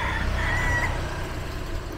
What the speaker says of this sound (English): roosters.